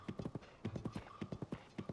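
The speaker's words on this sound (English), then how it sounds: "I'm gonna leave the horse over there." Horse hooves clip-clop in quick, regular groups of beats on the ground in Zelda: Tears of the Kingdom, crisp and fairly quiet.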